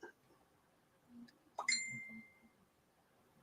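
A phone's message notification rings out once as a bright ding that rings on briefly and fades, in an otherwise quiet room with faint background murmur.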